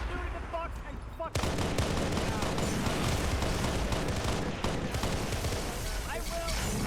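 Gunfire in a multiplayer sci-fi shooter match, UNSC against Covenant, erupting as a dense, loud barrage of rapid shots and blasts that continues with little letup, while players talk over it.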